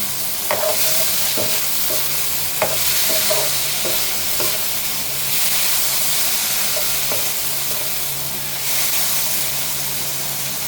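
Chopped tomatoes fry in a pan with taro stolons and tengra fish, a steady close sizzle and hiss broken by the scattered clinks and scrapes of a spoon stirring, with no talking.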